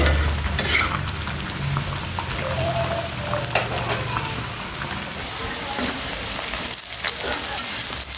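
Onion fries in a pan of oil while it is stirred, a continuous crackling sizzle with scraping strokes and faint clatter throughout, close and fairly loud.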